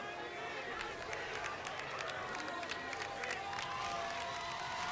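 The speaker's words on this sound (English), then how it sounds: "this LCA crowd is getting going" A home crowd at an LCA high school football game makes a steady, distant roar of cheering and scattered clapping, with commentators talking over it.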